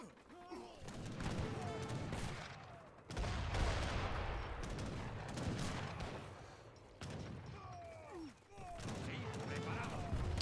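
Ships bombard in a match of Age of Empires III, heard as repeated booming cannon volleys and crumbling impacts in bursts, with a commentator talking throughout.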